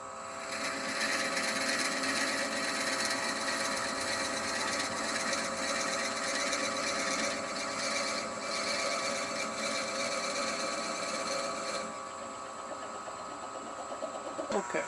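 A steady mechanical whir and grinding of a brad point drill bit boring a 1.5-inch-deep hole into wood spinning on a lathe at about 500 RPM, loud and continuous, easing slightly near the end.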